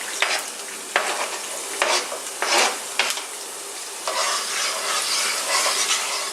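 Red onion and garlic sizzle steadily in a pan while a utensil scrapes and stirs, with short, repeated bursts of scraping heard over the constant crackle of frying.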